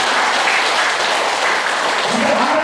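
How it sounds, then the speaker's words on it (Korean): Audience at a health lecture clapping for the instructor, a loud, close, continuous burst of applause that keeps a steady level for a few seconds. "이럴 때 박수도 좀 쳐주세요."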